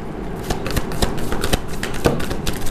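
Playing cards are shuffled and drawn in quick, crisp riffling bursts with sharp snaps, close and continuous for a few seconds.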